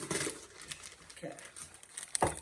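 A farm feed bag for goats is cut open with a knife and scissors, giving several separate bursts of plastic crinkling and tearing, close and fairly soft, with people talking around it.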